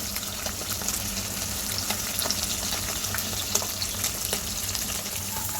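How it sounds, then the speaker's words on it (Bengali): Puti fish and spices fry in oil in a pan, giving a constant close crackling sizzle with light stirring scrapes and faint clicks, and no voices. "ভালো করে কষিয়ে নিতেছি মশলাটা বেশি মশলা দিইনি আর মাছটাও প্রায় উল্টাই দেওয়া ভাজা হচ্ছে পুঁটি মাছ"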